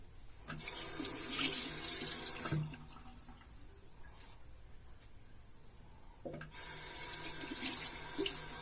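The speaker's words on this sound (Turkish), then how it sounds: "Bir yüzümü yıkayacağım, şaplayacağım." Tap water runs into a sink in two strong bursts with a quieter stretch between, splashing during a face wash after a traditional wet shave with Arko cream; no voices.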